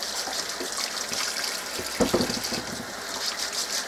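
Potatoes are scrubbed under a running tap, a steady close hiss of water with soft rubbing and a brief splashier burst midway.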